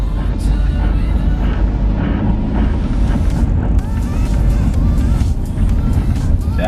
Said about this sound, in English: I'm just gonna let the car warm up a bit